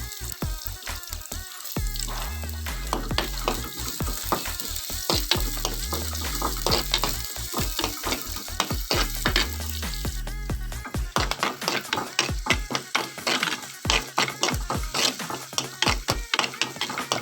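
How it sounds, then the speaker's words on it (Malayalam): Chopped onion sautéing in hot oil for a Kerala fish curry with coconut milk, a steady sizzle broken by frequent clinks and scrapes of a spoon stirring against the pan, growing busier and more rhythmic in the second half. "ഒരു ചെറിയ സവാള അരിഞ്ഞ് ചേർത്ത് നല്ലതുപോലെ ഒന്ന് വഴറ്റി കൊടുക്കണം"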